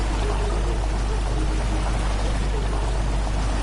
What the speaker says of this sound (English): The water rushing into the chamber makes a strange sound.